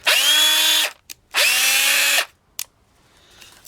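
A Makita DA312D right angle drill with variable speed trigger whirs loudly in two bursts of just under a second each, winding up and spinning down, with brief clicks between and a quiet tail after.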